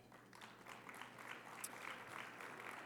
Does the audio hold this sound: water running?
no